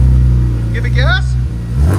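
Loud low exhaust drone from a 1997 BMW M3 with 3.2L swap, headers and Borla catback, holding a steady rev before dropping briefly near the end, while a person speaks over it midway.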